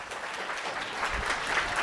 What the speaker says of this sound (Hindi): जोरदार ताली बजाओ सिस्टर के लिए